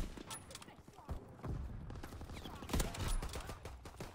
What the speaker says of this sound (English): I literally shot him without a scope.